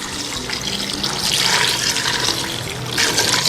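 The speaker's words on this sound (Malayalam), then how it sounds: "ഇനി ഇതിലേക്ക് പാകത്തിന് വെള്ളവും ചേർക്കാം." Water poured into a pan of Madras lentils: a steady, close splashing rush of liquid that swells in bursts over a few seconds, with no talking.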